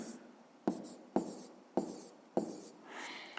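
Pen writing by hand on paper, working a math exercise, with four sharp taps or strokes at steady intervals between softer scratching, close and fairly quiet.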